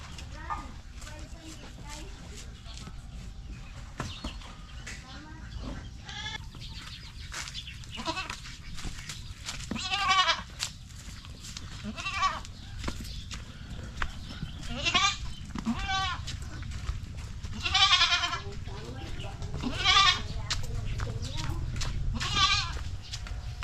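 Goat bleating repeatedly on a Mindanao farm where a goat is to be slaughtered, several loud wavering bleats rising and falling over about twenty seconds, mixed with nearby people talking and farmyard background noise.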